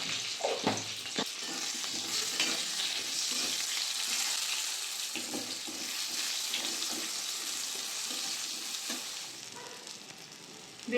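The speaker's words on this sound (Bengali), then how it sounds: "দিয়ে বেগুনটা ভেজে নেব" Salted, turmeric-dusted eggplant pieces fry in hot oil with a steady bright sizzle, punctuated by occasional scraping stirs of a spatula in the pan.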